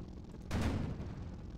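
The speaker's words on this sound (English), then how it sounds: "Oh, we're shooting both guns at once." A tank in the Sprocket video game firing both main guns at once, a single heavy booming blast with a rumbling tail that lingers over a low background hum.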